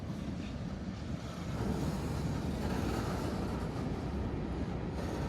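A train slowing to a stop by an engine service facility on a rail line in Indiana or Western Kentucky, heard as a continuous broad rumble and roar that holds steady, somewhat distant, with no talking.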